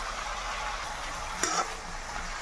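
Cut potatoes with salt fry in a pan, a steady soft hiss of sizzling with a brief scrape of stirring midway, quiet and close.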